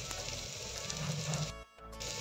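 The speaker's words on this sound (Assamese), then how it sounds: "পিঁয়াজ আৰু আদা নহৰুখিনি তেতিয়ালৈকে ভাজি থাকিব যেতিয়ালৈকে এটা তাৰ পৰা ধুনীয়া গোন্ধ নোলায়" Onion, ginger and garlic fry with green chillies in hot oil, giving a steady soft sizzle with a brief dip near the end before the crackle resumes.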